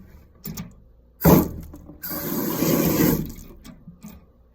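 Hot water heater temperature and pressure relief valve being tested, with a sharp mechanical snap followed by a loud rushing gush of released water lasting over a second, then trailing off.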